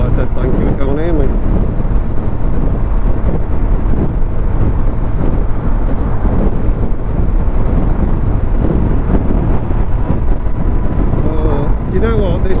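Wind roars steadily against a rider on a Suzuki GSX S1000 GT motorcycle on a winter ride, a loud, unbroken buffeting rumble that fills the whole stretch.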